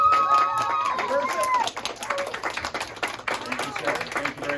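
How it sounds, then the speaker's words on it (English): Applause for a teacher receiving an Active Learning Award, clapping that rises then thins into scattered claps, with a speaker's voice heard over the start. "a round of applause"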